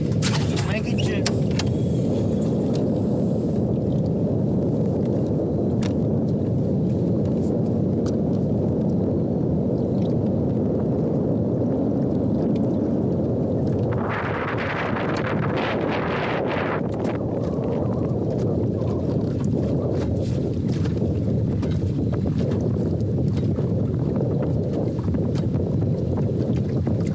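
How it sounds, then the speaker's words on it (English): Strong wind roars steadily across a fishing boat on rough water, a loud continuous buffeting rush with a brief brighter gust midway. "Wind blowing this way and the current coming down that way."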